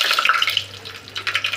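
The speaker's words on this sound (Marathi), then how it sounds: "आता टाकू जिरे मोहरी फोडणीला" Cumin and mustard seeds hit hot oil for a tadka, giving crackling, popping sizzle with sharp bursts at the start and more pops later, close and fairly loud.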